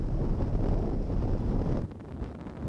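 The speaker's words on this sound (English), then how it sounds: "We're approaching an anchorage in very windy conditions, and Skip Novak is going to talk you through" Strong wind roaring continuously into the microphone aboard a sailing yacht approaching an anchorage near Cape Horn, a loud low rumble that eases slightly near the end.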